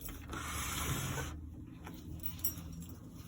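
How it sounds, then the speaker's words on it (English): A sewing machine stitches the edges of a fabric bag in a short, steady mechanical run of about a second, then stops, leaving quiet room sound and faint handling. "I'm just gonna sew the edges."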